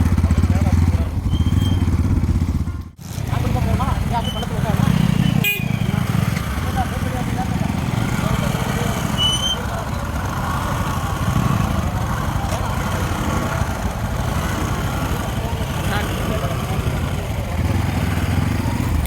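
A motorcycle engine idles and runs steadily close by on a muddy riverbank near Hogenakkal where bikes are ferried on a coracle, a buzzing mid-pitched drone under people talking, with a brief dip early on.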